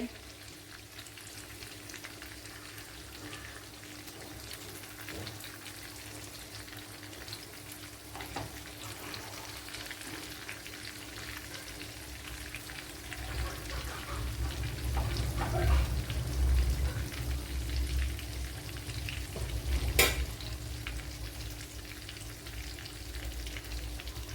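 Chicken fry cooking in a pan on a low flame, a faint, steady sizzle and crackle that swells slightly midway, with a single sharp clink of a utensil near the end.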